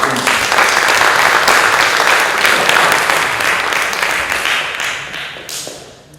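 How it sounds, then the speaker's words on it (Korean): A seated audience at a Korean church lecture breaks into loud, sustained applause, dense clapping that fills the room and tapers slightly toward the end, with no talk over it. "박수 한번 주세요"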